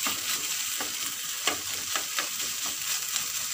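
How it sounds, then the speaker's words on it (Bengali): A steady sizzle comes from potatoes frying in a pan, broken by light, irregular scrapes as they are stirred. The pan is close by and no voice is heard. "সুন্দর ভাজা ভাজা হয়ে যাচ্ছে বন্ধুরা"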